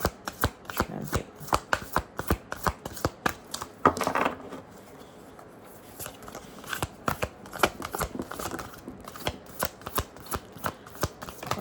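Tarot cards being shuffled by hand during a reading, a steady run of crisp riffling snaps and soft slaps repeating close up, with brief pauses and no speech.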